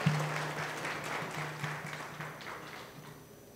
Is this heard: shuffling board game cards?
no